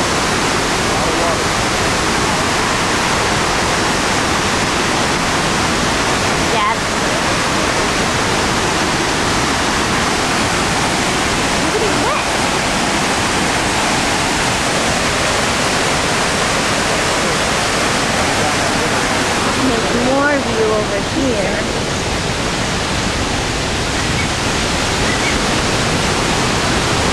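River water in Africa rushes and roars in a loud, steady wash of broadband noise throughout, seen from high above, with brief faint voices near the end.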